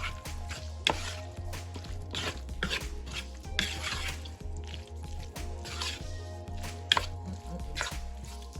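Pasta salad being tossed with salt in a bowl for a Jamaican-style recipe, giving repeated close scraping, clinking and knocking of a utensil against the bowl in an uneven rhythm, with a steady low hum underneath and no speech.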